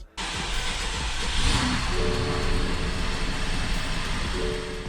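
A BMW 550i engine, freshly reinstalled and leaking oil badly, turns over and catches on its first start, then keeps running with a loud, steady roar and hiss for several seconds.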